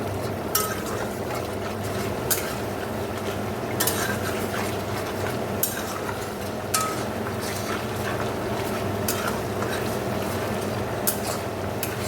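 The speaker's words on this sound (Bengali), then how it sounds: "ভালো করে মশলাটা কষে নেব।" Spice masala seasoned with salt, turmeric and a little sugar being fried and stirred in oil, a soft steady sizzle under occasional scrapes and clinks of a spoon against the pan, with quiet background noise throughout.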